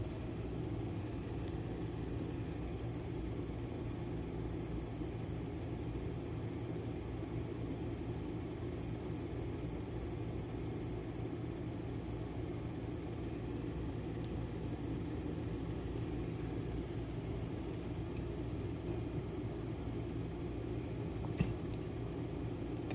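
Cars drive by on a street outside an apartment building, a constant low traffic rumble that stays fairly even and distant throughout, with a faint click near the end and no talking.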